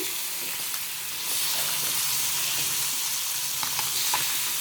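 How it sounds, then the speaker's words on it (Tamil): Murrel fish sizzles steadily in hot coconut oil, a constant bright crackling hiss with occasional pops, no voices. "தேங்காய் எண்ணெய் ஊற்றுதேன் மீன் பொரிக்க"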